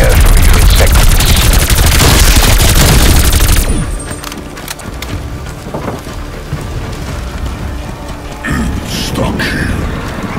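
Dense, sustained automatic gunfire from a riot-suppression auto turret in a first-person shooter, loud and continuous for several seconds, then dropping to a quieter bed of scattered bursts and rumble.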